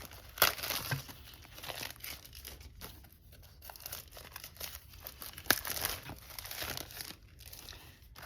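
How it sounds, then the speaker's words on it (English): Plastic wrapping is crinkled and torn off a quilting kit, a close, steady rustle with a couple of sharper crackles and tears, no talking. "Let me take the plastic off and see."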